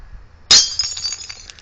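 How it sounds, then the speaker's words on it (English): A glass plate smashes with one loud sharp crash, followed by a scatter of tinkling fragments settling over about a second. "That is one broken glass plate."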